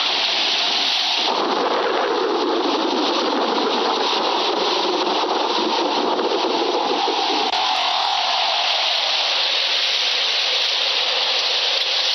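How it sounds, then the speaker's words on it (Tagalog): Heavy rain pours steadily with a deep, rolling rumble of thunder building and fading in the middle, no voices heard. "Ang lakas ng ulan, sobra."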